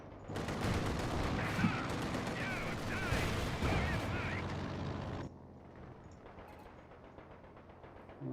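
Heavy gunfire pours onto a T-70 light tank in Company of Heroes 2, a loud, continuous volley of shots and impacts that cuts off sharply partway through, leaving a quieter stretch of distant fire behind speech.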